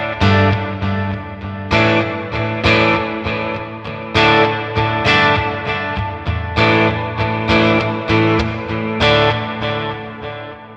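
Guitar chords played through a Red Panda Context reverb pedal set to a long reverb time ring out in repeated strums, each swelling and trailing into a lingering wash.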